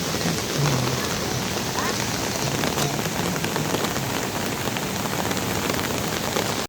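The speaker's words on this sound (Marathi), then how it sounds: "आमच्या गावामध्ये इथे खूप मोठा पाऊस पडलेला आहे" Heavy rain pours down over a village in a dense, continuous roar of drops hitting surfaces, loud and steady with no pause.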